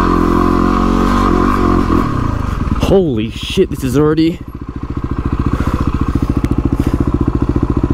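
Adventure motorcycle on a rough trail in the Victorian High Country, a loud steady engine drone that dips, then settles into a rhythmic chugging pulse, with a rider exclaiming over the engine.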